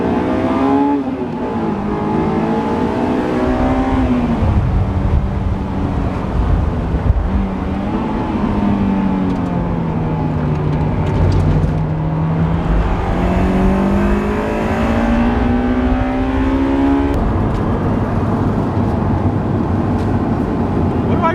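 A Honda S2000 engine revs toward 9,000 rpm, climbing and falling in pitch, holding a loud, sustained howl before dropping sharply near the end.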